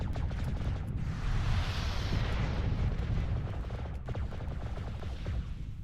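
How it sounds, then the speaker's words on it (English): Heavy UAC-20 autocannon fire from a mech in MechWarrior Living Legends, a dense, continuous roar of rapid booming shots with a sustained rumbling low end across the whole stretch, loud and near. "Might affect the weapons fire, as that is a UAC-20 cannon, I believe."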